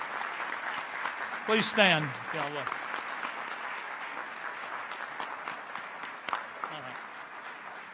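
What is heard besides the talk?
audience applause at a press conference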